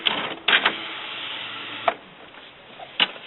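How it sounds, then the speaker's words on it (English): An Epson WF-7110 inkjet printer shuttles its ink cartridge carriage to the change position, a steady mechanical whir punctuated by three or four sharp clicks and clunks, close and alone. "it'll move the cartridges over to the cartridge change position"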